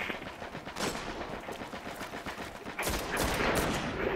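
Automatic weapons fire in rapid bursts during an Iron Banner multiplayer match of the Destiny beta on PS3. The shots are loud and close, come in steady repeated volleys, and a heavier blast of gunfire starts near the end.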